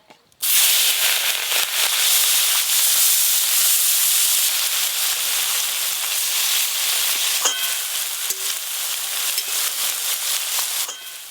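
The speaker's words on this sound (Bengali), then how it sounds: "ছোট মাছ ভাজা হতে গেল" Small fish frying in hot oil in a home kitchen, a steady loud sizzle and hiss with occasional crackles and pops, continuous throughout with no talking.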